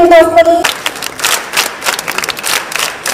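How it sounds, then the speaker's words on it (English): A crowd claps for the guests on the dais at a school event, scattered, uneven hand claps following a brief tonal sound at the start. "Once again, a big round of applause for all the guests on the dais."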